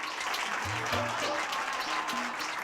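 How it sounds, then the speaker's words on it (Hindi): Audience clapping fills the stretch in a steady, dense wash during a Hindi comedy stage show, with faint voices or music tones poking through underneath. "जोरदार तालियां।"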